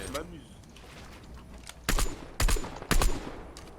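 Video game gunfire comes in three sharp bursts in quick succession near the end, preceded by quieter game ambience and a faint earlier shot.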